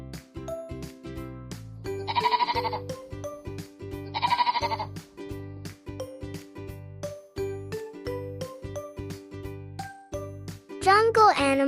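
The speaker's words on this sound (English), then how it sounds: "What sound does a sheep make?" Sheep bleat twice in loud, wavering calls amid a bouncy children's tune with jingling tones, with a final shriller bleat at the end.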